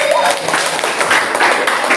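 Children in a classroom clap together, a loud busy patter of many hands that carries on evenly for the whole stretch.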